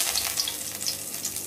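Two bay leaves hitting hot oil in a kadai sizzle steadily and loudly up close, a continuous crackling fry with small pops throughout.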